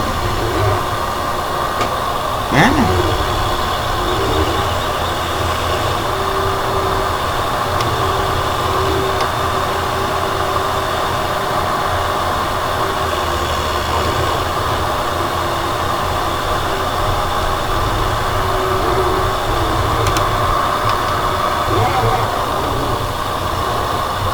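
A tractor engine idles steadily with a low, continuous rumble and hum, loud and unchanging, with occasional faint clanks and a brief louder knock near the start.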